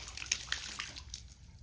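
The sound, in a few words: bucket dropped into well water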